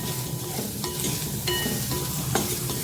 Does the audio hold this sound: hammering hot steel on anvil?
no